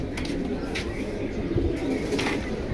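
Caged pigeons at a pigeon sale coo in soft, repeated low calls over a steady background murmur, with a few faint chirps and wing sounds mixed in.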